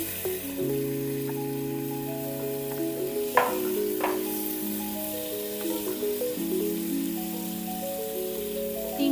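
Prawns fry in hot mustard oil in a pan, giving a steady, close sizzling hiss throughout, with two sharper crackles near the middle and no voices.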